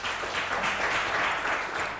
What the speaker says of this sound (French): À côté de Kizito, on a Ghislain, merci de l'applaudir.